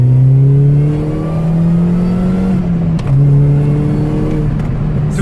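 A supercharged sports car accelerates hard, its engine revving up in rising steps with a shift around midway, loud and close, the supercharger whine riding above the engine note, with no talking.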